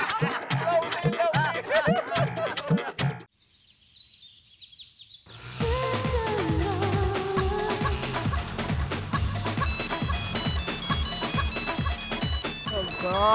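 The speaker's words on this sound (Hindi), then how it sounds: "ये फोन भी कभी भी बजता है।" A mobile phone ringtone plays a bright, repeating electronic melody indoors, starting after a short break and continuing steadily; people are talking just before it begins.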